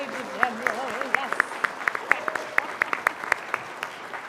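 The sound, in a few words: concert audience applause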